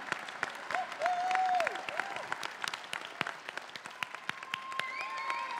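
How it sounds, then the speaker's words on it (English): Applause from a commencement crowd at Berkeley City College 2023 for faculty and staff, a quiet, distant patter of clapping with sharp individual claps and a few whoops or cheers rising over it. "Clap for them"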